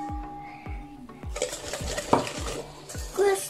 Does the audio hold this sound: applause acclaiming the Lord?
no